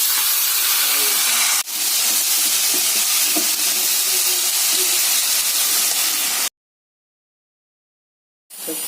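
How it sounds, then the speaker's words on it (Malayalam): Steam hisses steadily from a cooking pot of boiled, salted chopped vegetables in a home kitchen, a loud broadband rush lasting about six seconds with a brief break near the start, then cutting to silence before resuming faintly. "ഇതിൻ്റെ ആവിയൊക്കെ വന്ന് വെള്ളം പറ്റി."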